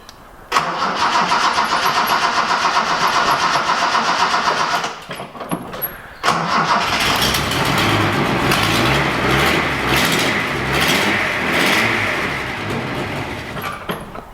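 A Datsun 240C with a misfire: the starter cranks, the engine catches and runs briefly, stumbles to a near stop, then fires again into a loud, rough, uneven idle close by.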